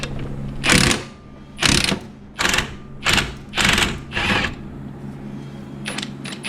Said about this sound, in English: next you're going to take a 15 millimeter wrench to your top side here and a 15 millimeter socket